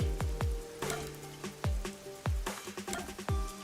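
Rain falling in the video game Rain Code, heard as a series of distinct heavy drops and splats landing in an irregular rhythm over a soft wet hiss, fairly loud and with no talking.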